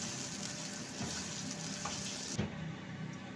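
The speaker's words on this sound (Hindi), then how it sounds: "यहाँ पे हमने चिकन को 5 मिनट तक अच्छे से फ्राई कर लिया है।" Chicken sizzling steadily as it fries in a pan, a constant bright crackle with a brief clatter near the end and no talking.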